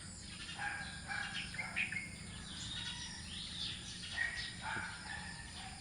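A hen clucking and chirping softly in the distance over a low rustling background, with scattered short calls.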